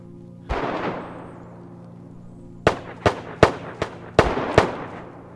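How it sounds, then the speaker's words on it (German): Gunfire rings out near a police station in the video game DayZ on a rainy day: one heavy bang with a long echoing tail, then a quick run of six sharp shots. "Vor der Polizeistation sind die Schüsse."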